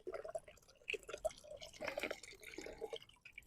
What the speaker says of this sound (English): my solar powered pebble pool provided by Byling